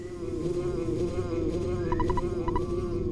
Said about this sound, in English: A bee is telling me this